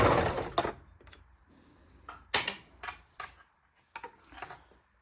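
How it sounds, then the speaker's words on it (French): Serger overlock machine sewing a sweater sleeve seam: a short loud burst of whirring at the start, followed by scattered close clicks and taps from the machine and fabric handling. "Il nous reste à coudre à la surjeteuse, d'ici en bas"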